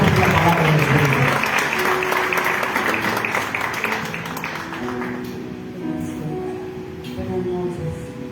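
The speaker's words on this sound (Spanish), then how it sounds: "¿Por qué no le damos un aplauso por la profeta" Church congregation at an evening service applauding a woman prophet, dense clapping that fades after about five seconds, with a voice and room noise continuing underneath.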